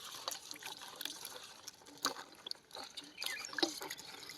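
Karonda fruit rinsed under water, giving soft trickling, dripping and splashing with small irregular bursts, faint and close.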